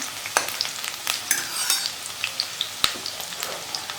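Onions sautéing and being stirred in a pan for a mung bean curry, with a steady soft sizzle and repeated scraping clicks of a spoon against the pan, heard close and on their own.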